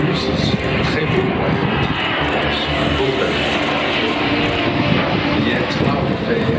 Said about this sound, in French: The Antonov AM-158 This is a machine which can be flown in searing heats, just like you would find in the Gobi Desert